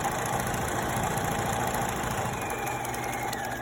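Sewing machine stitching around a denim bag, a steady, fast mechanical whirring hum with a fine rapid needle rhythm, fairly quiet and continuous throughout.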